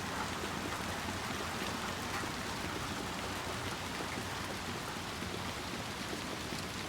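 Steady, dense rain pours down behind a hospital in the video game Little Nightmares II, a continuous even hiss with no pauses and no voices.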